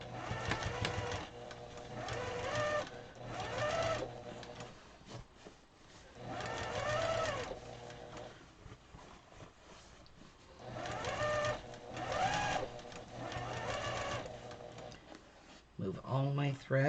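A sewing machine stitches a fabric pillow in repeated bursts of fast mechanical whirring, each run lasting one to two seconds with brief pauses between, close up and fairly loud.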